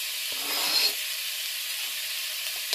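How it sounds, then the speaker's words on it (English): Bacon fries in a Dutch oven over medium-high heat, giving off a steady, fairly faint sizzling hiss with a slight swell of crackle near the start. "I'm going to let the bacon sizzle like that."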